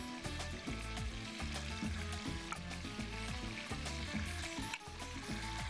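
Chicken pieces coated in salt and turmeric sizzle loudly and continuously in hot oil in a home kitchen, a dense, steady frying hiss with no pause.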